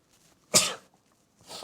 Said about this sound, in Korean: 시원하게 재채기했어야 되는데.